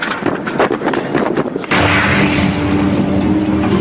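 Air-burst explosion of the roughly 20-metre Chelyabinsk meteor at about 5,000 metres altitude, a loud deep boom with rumbling, rattling reverberation that sustains after the initial blast.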